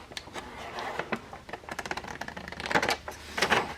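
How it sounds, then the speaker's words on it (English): Scissors cut vellum paper along a score line for a handmade envelope, giving a quick irregular series of crisp snips and paper crackles up close. "cut on the inside of that score line all the way up to the top"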